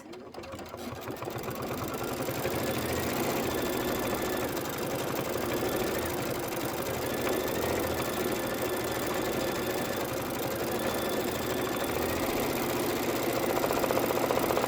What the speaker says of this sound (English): It's going to be 2 minutes of stitching, and then we're going to be doing the mummy face.